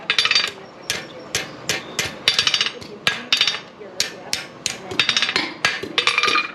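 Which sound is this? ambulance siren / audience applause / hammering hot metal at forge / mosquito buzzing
hammering hot metal at forge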